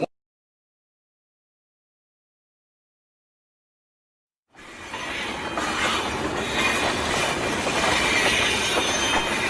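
A train ride sounds after a few seconds of silence: steady rumbling wheels and carriage noise with clickety-clack and faint wheel squeal, continuous and fairly loud from inside the moving train, with no voices.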